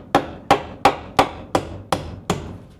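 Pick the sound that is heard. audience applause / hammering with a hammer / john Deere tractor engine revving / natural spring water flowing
hammering with a hammer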